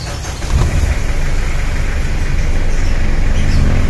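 The engine of a Mitsubishi Pajero catches and settles into a loud, steady running rumble that holds close and constant after a brief quieter start.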